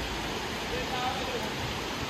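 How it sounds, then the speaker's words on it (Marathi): Rushing river water along a Konkan stream used for crab catching, a steady broadband roar filling the whole clip, fairly close and continuous with no clear talk over it. "नदीचा आवाज जास्त आहे ना"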